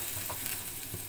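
Food with ground pepper and olive oil gently sizzles as it warms in a pan, a soft continuous hiss with faint stirring scrapes, quiet and close.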